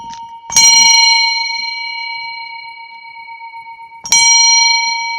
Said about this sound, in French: Mieux vaut entendre une cloche qui résonne bien.